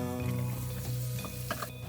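Long pasta noodles with butter and starchy pasta water being stirred and tossed in a frying pan, a steady close sizzle with scraping stir strokes and occasional clinks, no talking.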